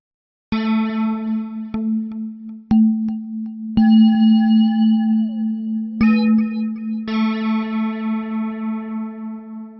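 Default sound of the Logic Sculpture physical-modeling synthesizer: a series of plucked, bell-like notes with sharp attacks and ringing, slowly decaying tails, one note bending in pitch, played alone with no talking.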